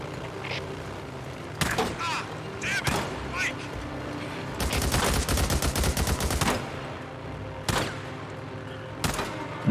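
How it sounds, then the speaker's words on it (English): Pistol gunfire in the video game Days Gone comes in quick bursts of sharp cracks, including a dense rapid volley in the middle, with someone talking excitedly between and over the shots. "The pistol is doing some good damage here."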